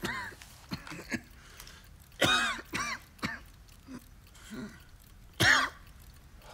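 A person with a cold coughs and clears their throat in a close, quiet setting, giving several short harsh bursts with gaps between them, two of them louder than the rest.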